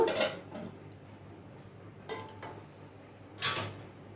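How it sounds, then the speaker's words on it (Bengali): A plate being set inside a pot of hot water for steaming momos, heard as three short, separate metallic clanks against an otherwise quiet background. "এবার আমি এখানে থালাটা বসিয়ে দিয়েছি আর একটা একটা করে মোমো এর মধ্যে সাজিয়ে দেবো"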